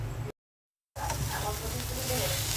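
Salted okra frying without water in a covered pan gives off a steady, dense sizzle, broken early by a short stretch of silence before the sizzling resumes at full strength.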